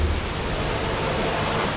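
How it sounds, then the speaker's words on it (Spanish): A river flows steadily through a forest, giving a broad, continuous rush of water that stays loud and even throughout with no other sounds. "Se escucha un río."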